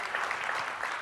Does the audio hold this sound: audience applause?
yes